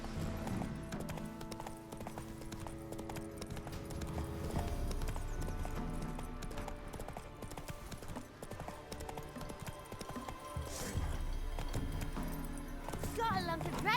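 Roach, the horse from The Witcher 3, trots with a steady clip-clop of hooves and a brief whinny, set against a continuous game soundscape.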